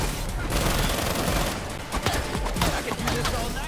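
Rapid pistol gunfire in the video game Gotham Knights, a dense volley of sharp shots layered over loud game sound effects and music, continuous and busy throughout.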